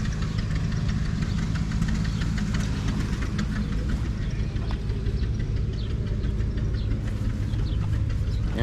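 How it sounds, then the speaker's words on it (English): An old engine runs at a rural threshing show, a steady low rumble with a rhythmic knocking beat, close and constant, with no talk over it. "Engine."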